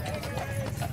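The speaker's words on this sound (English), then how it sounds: "And here they are, the Clydesdale horses." Clydesdale horses walking in a parade, their hoof clops faint and rhythmic beneath a busy crowd and announcer talk.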